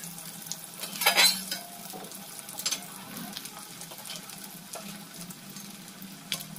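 Soft, continuous sizzling of catla fish fingers frying in oil, with occasional louder crackles and a brief clatter of a utensil.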